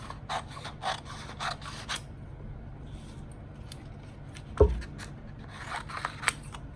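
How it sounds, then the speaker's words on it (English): Scissors cutting paper for an ice cream colour-value craft, heard as close, crisp snips in quick clusters with short pauses between them and no talking. "So let's start with cutting."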